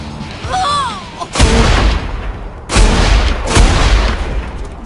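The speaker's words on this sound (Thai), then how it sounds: "เอาลูกซองเป่านะ" Shotgun blasts ring out in Saints Row The Third, three heavy, booming shots spaced over a few seconds. A brief voice sounds just before the first blast.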